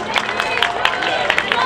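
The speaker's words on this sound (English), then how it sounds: "everybody should give a round of applause to Julian Assange" A rally crowd at the People's Mobilization to Stop the US War Machine claps and cheers for Julian Assange, dense continuous applause with sharp claps throughout, loud and near, with some crowd voices mixed in.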